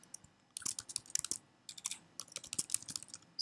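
Java code being typed on a computer keyboard: quiet, uneven bursts of rapid key clicks with short pauses between runs, close by and with no speech.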